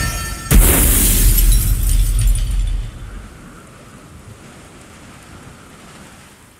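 A sudden loud thunderclap breaks over a Witcher 3 storm, then rumbles for a couple of seconds and settles into a quieter wash of rain.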